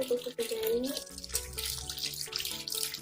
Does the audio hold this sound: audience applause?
no